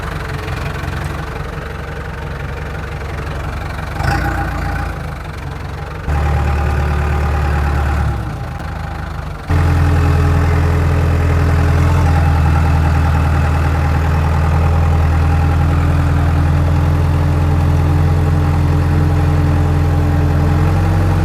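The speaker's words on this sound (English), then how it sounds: "I'm going to go get the backhoe going" Backhoe diesel engine starting up and then idling loudly nearby, a steady low rumble with knocking that jumps in level partway through and holds.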